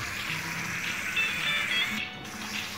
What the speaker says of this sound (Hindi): इसमें पानी भी डाल दी हूँ।